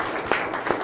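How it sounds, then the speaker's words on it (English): A brief burst of audience applause, a dense wash of clapping from many hands. "So we can give them a round of applause."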